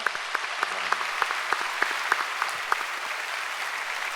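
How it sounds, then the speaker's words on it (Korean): A church congregation at a dawn worship service applauds visiting international conference attendees, a dense steady wash of clapping with a few louder individual claps standing out, sustained evenly throughout. "진심으로 감사드리고 박수 한번 하겠습니다"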